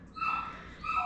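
A dog whimpers and cries from upstairs in a house, two thin, high-pitched whining cries, faint and somewhat distant.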